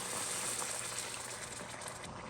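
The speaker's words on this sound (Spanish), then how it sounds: "agregar 3 tazas de agua" Water pours steadily into a hot pan of cooking jalapeño red rice sauce made with El Pato sauce, a constant splashing gush with a sizzling hiss, close and alone without talk.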